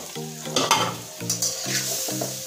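Pieces of pointed gourd tossed and stirred in hot oil with spices hiss and sizzle steadily, with scraping spatula strokes close by and no talking.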